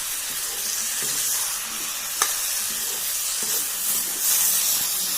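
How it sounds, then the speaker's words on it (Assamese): Pork frying in a wok sizzles loudly and steadily while being stirred, with scraping clicks of the utensil against the pan cutting through the continuous hiss. "এয়া মই লৰাই দিলোঁ যিহেতু লাগি ধৰিছিল কেৰাহীত"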